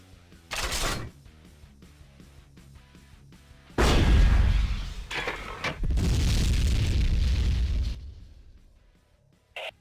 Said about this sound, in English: equip your mortar and see what you can do with it